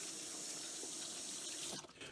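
Tap water runs steadily into a sink as hands are rinsed close by, a bright continuous splashing hiss that shifts and breaks near the end.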